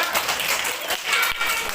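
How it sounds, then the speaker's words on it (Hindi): A group of children clapping their hands together after singing an action rhyme in a classroom, a busy, uneven patter of claps filling the moment with a few louder individual smacks and faint voices mixed in. "ताली बजाना है"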